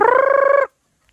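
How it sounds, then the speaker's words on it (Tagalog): A single loud, rapid fluttering gobble-like call from a nearby chicken lasts about half a second, then cuts off into silence. "Ito yung mga manok namin mga kabayan, no?"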